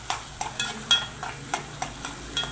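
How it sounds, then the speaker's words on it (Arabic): Garlic frying in a pan while being stirred: a continuous sizzle is broken by regular, fairly loud scraping strokes, roughly two or three per second, close up with no voices. "نفضل نقلب بقى لغايه لما الثوم ده يحمر"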